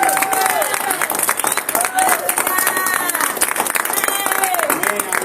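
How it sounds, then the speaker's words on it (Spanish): A church congregation claps in a lively, continuous round under a speaker's voice, with crowd noise filling the space throughout. "Con este aplauso le damos la mano."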